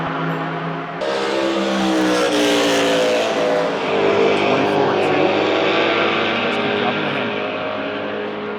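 A race car blasts down the front straight of the Indianapolis road course, its engine roaring steadily and loudly with rising pitch after a sharp shift, sustained for several seconds.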